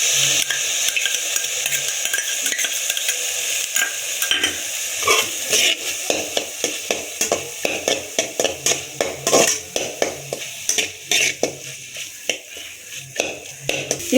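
Ginger garlic paste fries with golden onions in a pan for a country chicken curry, a continuous sizzle broken by frequent sharp scrapes and clinks of a spoon stirring against the metal.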